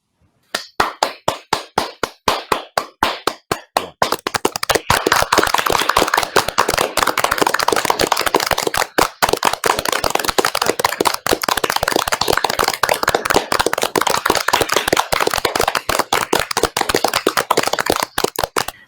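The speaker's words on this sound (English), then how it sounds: "Please join me in a round of applause for our Samaritan family." Applause for Samaritan hospital staff at a celebration gala, beginning as a few sparse, separate claps that quickly build into sustained, dense clapping from many people.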